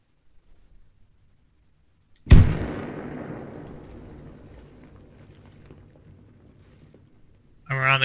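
A frag grenade explodes in a military video game: a single loud close blast after near silence, followed by a long decaying rumble and debris, then a voice begins speaking at the end.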